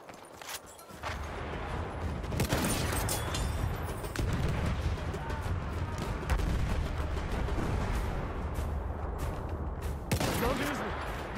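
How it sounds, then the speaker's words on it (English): Enemy artillery barrage in a video game, a continuous roaring wall of explosions and heavy fire that stays loud and dense throughout, with brief sharper bursts near the start and end. "Wait for the enemy artillery barrage to stop firing"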